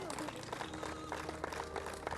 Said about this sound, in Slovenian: En velik gromozanski aplavz ti namenjamo